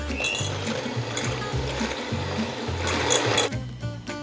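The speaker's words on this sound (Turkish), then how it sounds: "3 yumurtamızı mikser yardımıyla çırpıyoruz." An electric mixer whisking eggs in a bowl whirs with a buzzing, stuttering hum, its motor pulsing, nearby and steady before stopping.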